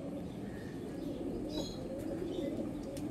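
Soft throaty cooing from a young female golden-eyed pigeon runs continuously and close, with a few faint chirps above it and no talking.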